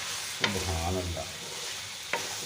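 Arvi (taro) masala being stirred in a frying pan with softened tomatoes, a steady close sizzle broken by two sharp scrapes of the spoon against the pan, with a brief hum of voice under it.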